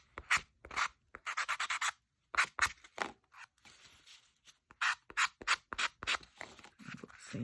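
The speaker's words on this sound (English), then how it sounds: "We'll sand that little bit off." A small sanding block rubs back and forth over a painted piece in repeated short bursts of gritty rasping, close and fairly loud, with brief pauses between strokes.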